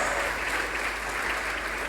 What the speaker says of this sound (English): please let's give them a big clap for the girls